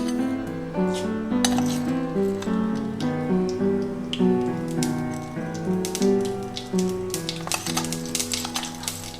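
Mustard seeds crackle and pop in hot oil in a Kerala home kitchen, a steady stream of sharp little snaps running under loud continuous music.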